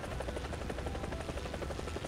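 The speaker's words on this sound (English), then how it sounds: "You could spawn this chopper." A helicopter in the War Thunder video game, its rotor thudding in steady rapid pulses over a dense engine whine, loud and continuous with no talk.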